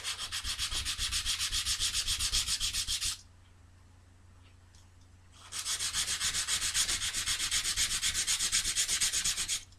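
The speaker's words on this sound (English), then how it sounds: "I actually sanded this quite a bit now." A wooden part for a bedroom build is sanded by hand in close, loud, rhythmic back-and-forth strokes, which pause for a couple of seconds in near silence and then resume just as steadily.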